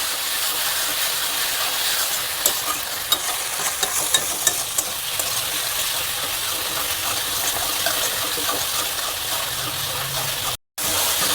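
Chicken curry masala with tomato being sautéed in a pan, a steady close sizzle and frying hiss with scraping stir strokes running throughout, no talk.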